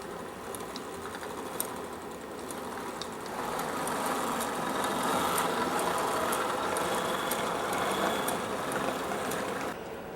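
The motor of an O scale Southern Pacific AC-12 key pilot model locomotive runs with a steady mechanical whir and faint gear ticking, growing slightly louder midway and holding an even hum.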